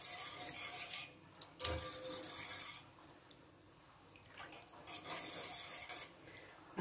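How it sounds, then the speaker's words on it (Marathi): A pot of buttermilk kadhi is stirred steadily on a medium gas flame, a spoon scraping and rubbing against the metal in repeated close strokes, with brief louder clatters of utensil on pot and no talking. "एक सारखं हलवत रहा म्हणजे ताक फुटत नाही, कढी फुटत नाही"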